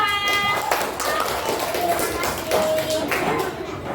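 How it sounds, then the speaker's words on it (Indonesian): Classroom clapping for a student group after a presentation, a dense patter of hand claps mixed with children's voices and chatter, fairly close and steady throughout. "Tepuk tangan untuk kelompok 2."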